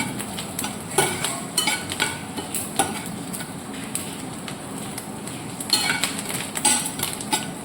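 Coconut roasting in a pan is stirred continuously, with a steady scraping and light clinks of the utensil against the pan over a soft sizzle, close and moderately loud.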